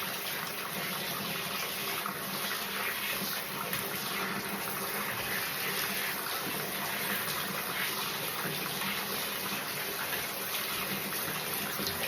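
Running water pouring steadily while rinsing soap off a Miniature Bull Terrier, a soft continuous splashing rinse with no talking.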